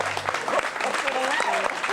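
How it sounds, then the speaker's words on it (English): Audience applause for Tom Scott at an interview event, a short burst of clapping with voices and cheering mixed in over it. "let's have a nice round of applause for the great Tom Scott, ladies and gentlemen"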